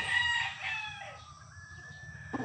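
A gamefowl broodstag rooster on a game farm crows once, loud and close, with a harmonic call that falls away. A short rustle follows near the end.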